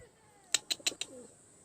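Pigeons kept by a fancier, heard as a quick run of four soft, close calls over a faint, quiet background, with no one speaking.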